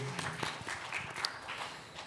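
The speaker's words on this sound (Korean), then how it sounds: "우리 찬양을 받으신 우리 하나님께 감사의 박수 돌리겠습니다." A church congregation applauding during a Sunday worship service, a steady spread of many hands clapping together at moderate volume in a hall.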